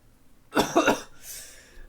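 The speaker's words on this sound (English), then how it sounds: "Sorry if I'm coughing and all this stuff, people." A person recovering from a cold lets out a short burst of two or three close coughs, followed by a softer breathy exhale and a faint noise at the end.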